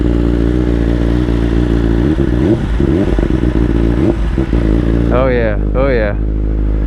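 A 2021 BMW S1000RR fitted with a titanium header exhaust idles with a steady low drone, then revs sharply twice near the end, close up, while a person speaks briefly over it.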